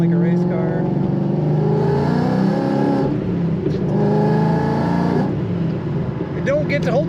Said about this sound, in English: Just hear the little whistle of those power adders.